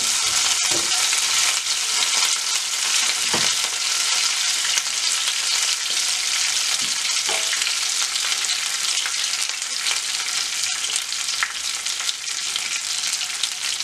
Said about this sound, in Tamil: இனி கறிவேப்பில கொஞ்சம் போட்டு அதையும் வதக்குவோம்